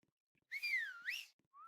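A player's whistle in the Roblox game Chameleon: one rising and falling tonal whistle lasting under a second, fairly faint and alone, followed by a brief higher chirp at the end.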